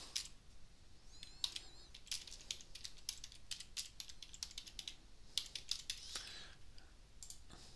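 An email address is typed on a computer keyboard: a quick, uneven run of light key clicks, close and fairly quiet, with no talking.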